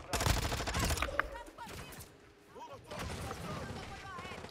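Rapid bursts of gunfire in Call of Duty: Modern Warfare II multiplayer, loud clustered shots in the opening seconds and again after a brief lull, with excited players talking over the action.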